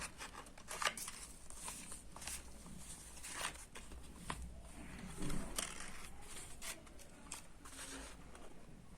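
Scissors snipping along the edges of an unfolded cardboard box, a series of quiet, close cuts and crisp scrapes at irregular intervals against a faint, hushed background.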